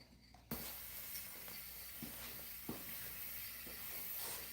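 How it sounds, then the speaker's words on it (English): A Rust-Oleum spray can fitted with a trigger sprayer handle, painting a Sportster motorcycle, starts with a sudden hiss and then sprays continuously and close. "So what I'm using is this, it's a Rust-Oleum sprayer, and this helps you direct it"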